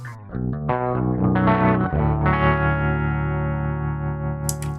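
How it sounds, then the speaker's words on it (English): Electric guitar played through a Line 6 HX Stomp ring modulator set to its slowest frequency as a tremolo, a few distorted, chorused notes and chords ringing out and sustaining, loud and close with no talking. "I'm using the ring modulator as a tremolo."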